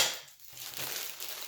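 Soft crinkling of plastic bags being handled and opened from a motherboard box, close and quiet, lasting a second or so.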